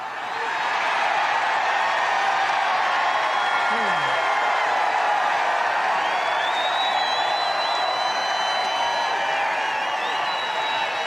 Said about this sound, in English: you've got thunderous applause there